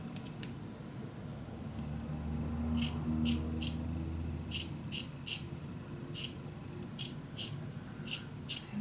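Scissors cut through scrapbook paper for a mini album in a quick series of crisp, close snips that come in a steady rhythm over faint room noise.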